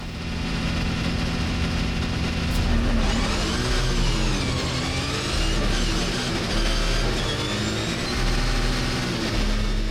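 A rallycross car's engine roars loud and steady at a race start, with rising and falling revs from several cars running together near and continuously.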